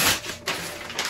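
Heat-resistant tape ripped in half during t-shirt sublimation, a short broadband tearing rasp with a brief break and a second pull, close by.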